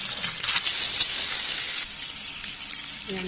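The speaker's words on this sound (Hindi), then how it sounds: "मैंने 1 चम्मच तेल लिया है, उसमें पहले हमें अंडा डाल के थोड़ा सा फ्राई कर लेंगे।" Eggs frying in a spoonful of hot oil sizzle with a loud, bright hiss up close that cuts off sharply partway through, leaving a softer low crackle afterward.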